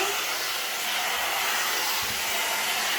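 A blow dry brush running on its hottest setting gives a steady, close, loud airy whoosh with a constant motor hum and a slight dip in tone partway through, no talking.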